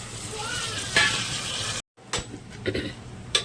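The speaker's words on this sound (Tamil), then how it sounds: "இப்போ வந்து நம்ம தக்காளி கட் பண்ணி வச்சுருக்கோம், அதையும் சேர்த்துக்கலாம்" Onions and chopped tomatoes sautéing in oil for a basmati rice biryani cooked in a pressure cooker hiss and sizzle up close, break off into a moment of silence, then return with scattered sharp scraping and clanks from stirring.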